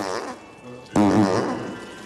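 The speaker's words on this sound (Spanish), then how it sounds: "Ah, y pedos. Obviamente pedos." A fart in a comedy parody film scene, a single loud, close, rumbling blast with a buzzy vibrating tone that lasts about a second after a quieter stretch.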